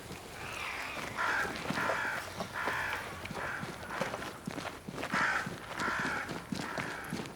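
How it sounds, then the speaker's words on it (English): Crows caw repeatedly around a great tree in the Banishers: Ghosts of New Eden game world, harsh calls recurring in bursts over several seconds alongside soft footstep-like shuffling, moderately close with no talk. "Crows. They flock to that great tree up there."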